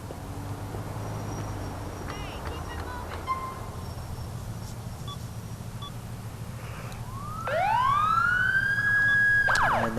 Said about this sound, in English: And there's the siren glitch again.